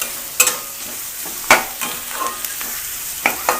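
Onions browning in a pan for a chicken curry with tamarind leaves, a steady sizzle broken by several sharp scrapes and clatters of stirring, close and alone with no voices.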